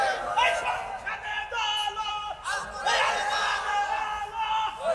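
A large crowd at a Bangladeshi Islamic sermon gathering shouting the takbir together in loud, surging, chant-like waves, close and full.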